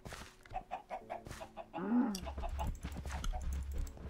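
Minecraft chickens cluck in a quick run of short in-game calls, followed by a louder squawk and then a low rumbling game background.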